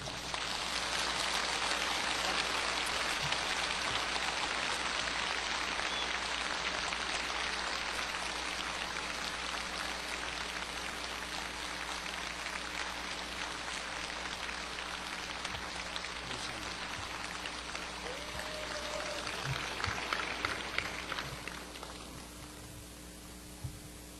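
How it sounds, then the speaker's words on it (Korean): Sustained audience applause at a Mokpo evangelistic revival rally, welcoming Pastor Cho Yonggi to the stage; dense, steady clapping from a large indoor crowd holds for over twenty seconds, then thins toward the end. "여러분들 박수로 크게 화답하시길 바랍니다"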